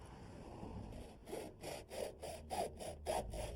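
Back-and-forth sawing through an aluminum gutter held in a box miter, starting after a second of quiet hum and settling into a steady rhythm of about eight strokes, close and fairly soft.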